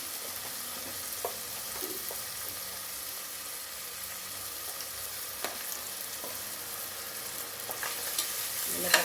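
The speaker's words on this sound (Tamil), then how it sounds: "வெங்காயம் வதங்கட்டும்" Onions sauté in a pot for a vegetable porridge, giving a steady soft sizzle with occasional light clinks and scrapes of stirring throughout.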